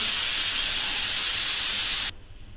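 A pressure cooker holding gongura mutton lets off steam in a loud, steady hiss for about two seconds, then the hiss cuts off sharply into near quiet.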